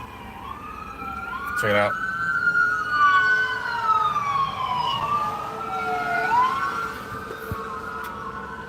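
Fire engine siren wailing as it passes, rising and falling tones sweeping by at moderate distance over traffic hum, with a short spoken remark near the start.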